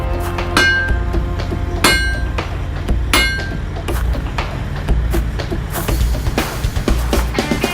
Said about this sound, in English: It's best to do that with a big hammer.